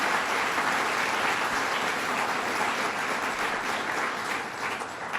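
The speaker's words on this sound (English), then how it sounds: "Let's give him a round of applause and thank him." Sustained crowd applause at a Western New York economic development announcement, broad and even throughout, heard at moderate distance with no speech on top.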